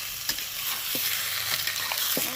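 Cauliflower curry with ground prawn heads sautés in a pan: a steady sizzle with a few quick spatula scrapes and stirs, close and moderately loud, no voices.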